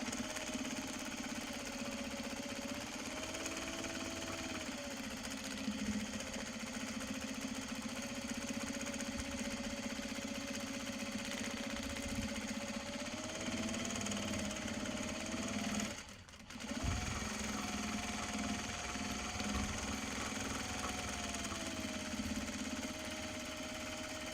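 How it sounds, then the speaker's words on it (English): A sewing machine runs a steady, continuous stitching drone while sewing a Japanese fabric bag. The drone stops for a brief pause partway through, then carries on at the same even pace. "So let's stitch it again on the same stitch line, hopefully"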